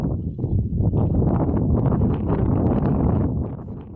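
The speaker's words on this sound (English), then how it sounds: "In open areas, wind gusts reached" Strong wind gusts during a sandstorm and tornado in Turpan, Xinjiang, reaching 130 km per hour in open areas, make a loud, continuous roar that swells and fades slightly.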